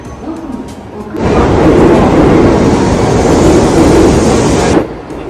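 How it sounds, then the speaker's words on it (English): A Shinkansen bullet train rushes past at a station, a broad, steady roar that starts abruptly, holds loud and close for several seconds, then cuts off, with quieter platform ambience before and after. "Look, Ella, the train is so long."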